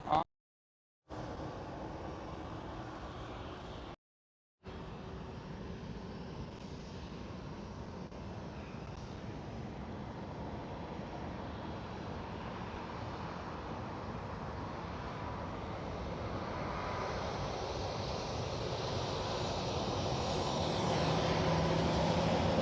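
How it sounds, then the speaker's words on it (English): A KLM Boeing 737 airliner at Schiphol Airport gives a broad, distant jet rumble that slowly swells louder and nearer over the span, with two brief dropouts near the start. "And the KLM 737 behind it as well."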